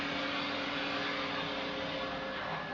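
A vacuum cleaner drones steadily and close by, a constant broadband whir with a faint tonal hum, unbroken and with no voices over it.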